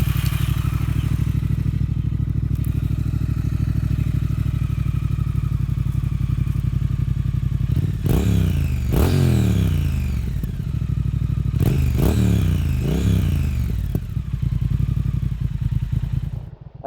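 A 2019 Triumph Speed Twin fitted with a Vance & Hines exhaust idles loudly up close with a deep, steady, throbbing burble, then gives two pairs of sharp throttle blips that rise and fall quickly before settling back to idle.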